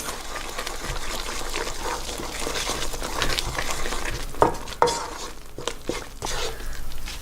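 A cornstarch coating for lobster is stirred together in a bowl, giving a steady wet churning and sloshing with a few sharper knocks near the end; nobody speaks.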